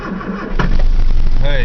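A 1975 Austin Allegro 1300 cold-starting on full choke, with a short cranking burst that catches at once and settles into a loud, steady close-up idle.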